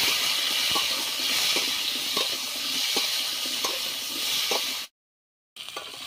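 Potatoes with salt and turmeric fry in a pan, giving a steady close hiss with faint crackles, cut off briefly by a moment of silence before the sizzling resumes.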